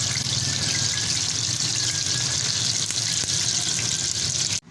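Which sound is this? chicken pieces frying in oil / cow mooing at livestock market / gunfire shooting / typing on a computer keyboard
chicken pieces frying in oil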